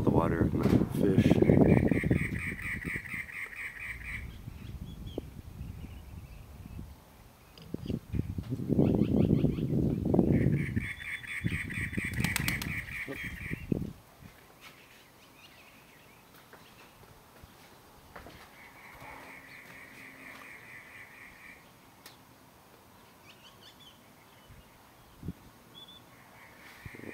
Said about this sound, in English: birds really like it here